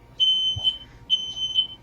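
A household smoke alarm going off, giving two paired high electronic beeps about a second apart, loud and alone with faint room hum beneath.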